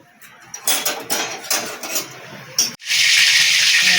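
Clattering utensils against a karai give way to a sudden, loud, steady sizzle as oil hits the hot pan over already-fried garlic, ready for frying bethe greens.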